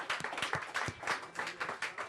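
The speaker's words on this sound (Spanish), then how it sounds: "Denle un fuerte aplauso" A church congregation claps and applauds during an evening worship service, a dense, steady patter of hands with rhythmic accents running throughout, close and lively.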